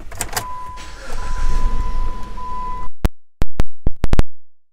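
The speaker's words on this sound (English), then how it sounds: "power moonroof." Power moonroof on a 2016 Jeep Compass opening, a steady motor whine with a faint high hum for about three seconds inside the cabin, then a string of sharp clicks and thumps as it stops.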